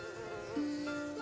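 A fruit fly (drosophila) in a laboratory setting, making a brief, thin, faint buzzing whine with a wavering pitch that steadies partway through.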